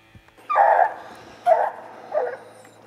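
Hunting dogs bark at a bear treed on a mountainside, three loud, separate bark bursts about a second apart, moderately close, with no talk over them.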